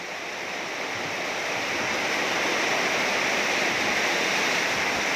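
Heavy rain falling on a roof, a dense, even hiss that holds steady and swells slightly louder as it goes on, with no voices over it.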